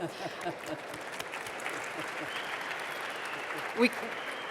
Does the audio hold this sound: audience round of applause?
yes